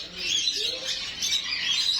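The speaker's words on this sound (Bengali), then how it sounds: "এগুলো হচ্ছে ছোটো ছোটো পাখি দেখুন কী সুন্দর পাখিগুলো" Small caged birds at a bird market in Mecca, Saudi Arabia, giving a dense wash of high chirps and tweets that carries on without a break, close and moderately loud.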